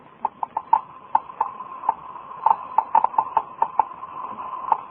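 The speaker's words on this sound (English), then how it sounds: "That sound is being made by a Geiger counter," A Geiger counter detecting radioactivity, its irregular clicks popping at uneven intervals over a faint hiss, sometimes bunching into quick clusters, clear and alone.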